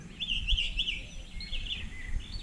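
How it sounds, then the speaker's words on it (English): Birds singing outdoors on a fine, cool day, bright chirping phrases in bursts over a low breezy background rumble, fairly distant. "listen to the birds"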